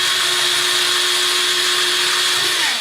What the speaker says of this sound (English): So I have my drill out here, and I am going to drill some holes in here